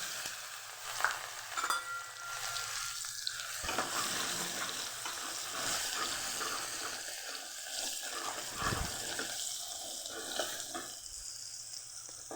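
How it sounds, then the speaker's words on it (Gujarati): Steady sizzle of onions frying in a pan after asafoetida, with scraping and clicking from stirring scattered throughout. No voices. "હવે આમાં આપણે ડુંગળી સુધારી અને ખોતરી લેવું"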